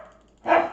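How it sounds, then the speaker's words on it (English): One short, sharp bark from a pet dog indoors, loud and close, following a brief quiet lead-in. "My dog is kind of crazy right now."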